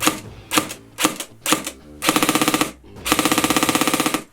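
A Tokyo Marui MP5 electric airsoft gun fires close by, first four spaced semi-automatic shots, then two rapid full-auto bursts of sharp, even clicks.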